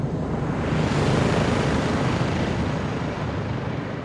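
A helicopter approaches in Call of Duty: Modern Warfare II, a dense roaring wash of rotor and wind noise that swells loud and holds steady throughout, with no voices.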